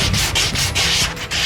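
Adhesive-backed sandpaper wet-sands a surface outdoors in the rain, making a quick series of close, rhythmic scraping strokes with short pauses between them.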